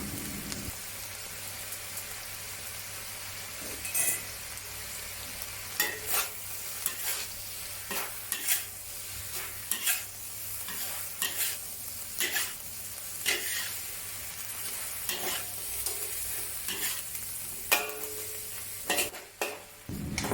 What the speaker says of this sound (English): throw in the basil leaves and give it a few quick flips and stirs